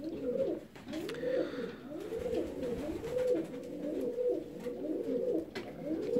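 Pigeons coo nearby in a steady, repeating series of soft, throaty rolling calls, several birds overlapping with faint background noise.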